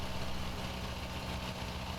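Steady rumbling idle of a tractor engine in Farming Simulator 19, a continuous loud low drone with no speech over it.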